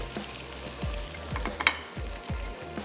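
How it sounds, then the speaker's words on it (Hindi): Balti gosht masala frying in a pan, a continuous sizzle with rhythmic stirring scrapes and a sharp clink of the utensil, close up with no voices. "तो चलिए थोड़ा सा मैं इसको और फ्राई कर लेती हूँ।"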